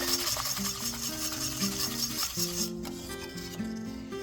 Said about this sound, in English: we're going to pour it into our milk and give it a quick whisk